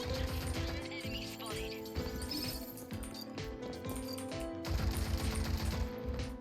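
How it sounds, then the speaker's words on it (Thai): Dense bursts of automatic gunfire in the tactical shooter game Rogue Company, rapid overlapping shots and clinking mechanisms, loud and continuous throughout with a constant layer of game music and effects underneath. "ใครมันยิงอะไร"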